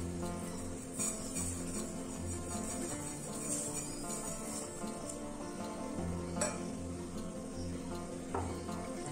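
Vermicelli being stirred into milk in a pot over the flame, a steady close simmering sizzle with soft scraping of the spoon and occasional light clinks against the pot, no voices.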